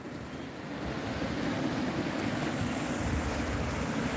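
Ocean surf breaking against coastal rocks, a steady broadband wash that builds in the first second and then holds loud and continuous, with wind noise on the microphone and no talking.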